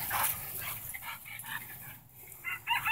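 A dog gives a few short, sharp barks and yips at close range. They come in quick bursts against quiet background noise.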